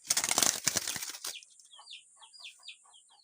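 A pet bird flaps its wings indoors in a loud, close burst of rapid fluttering wingbeats lasting about a second, followed by a series of soft, quick chirps.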